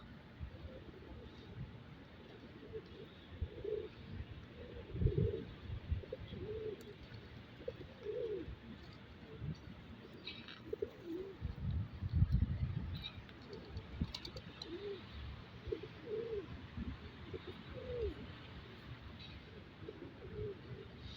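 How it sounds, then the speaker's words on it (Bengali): Soft, low cooing of pigeons repeating throughout, hundreds of birds murmuring together at a distance in Saudi Arabia, with a faint steady background hiss. "একসাথে এতগুলো কবুতর আমি আসলে দেখিই নেই"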